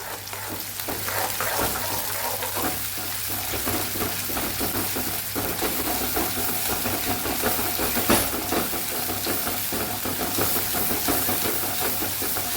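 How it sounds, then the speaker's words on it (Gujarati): A puree of tomato, green chili and ginger sautés with onion in a hot pan, giving a steady, loud sizzle and hiss with scattered pops and occasional stirring scrapes throughout, no voices. "ટમેટાને પ્યુરીને આપણે ડુંગળી સાથે સરસ સાતળી લેશું"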